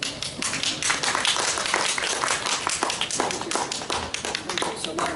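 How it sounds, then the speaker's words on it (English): An audience at a Smart City Expo 2023 panel on transportation and the EV market claps for a panelist, a dense, steady patter of many hands filling the room for several seconds. "Let's give Clara another big round of applause"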